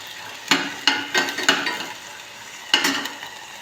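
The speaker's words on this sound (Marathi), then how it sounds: "गॅस मंदच ठेवायचा आहे आणि सतत त्याला चमच्याने हलवत राहायचं आहे" Pavta beans sauté in a pan over low gas, a spoon stirring them in several distinct scraping strokes over a light, close sizzle.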